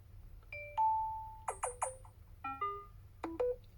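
A short series of Samsung Galaxy Z Fold5 notification chimes and tones plays, several distinct ringing notes in quick succession against a quiet background.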